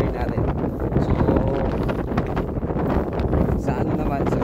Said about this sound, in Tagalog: So talaga yung hangin na super.